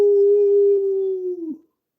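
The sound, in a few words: voice imitating a coyote howl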